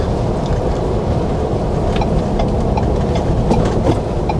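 A Ford Bronco with a 7-speed manual, downshifted into third while rolling down a hill, gives a steady low engine drone with road rumble inside the cabin and no talking.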